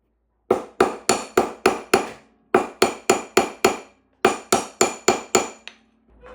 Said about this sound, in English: We're going to clean up our sizing area and hammer it to the correct size.